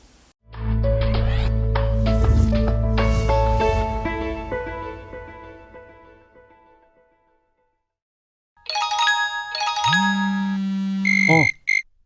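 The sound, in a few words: many different phone ringtones playing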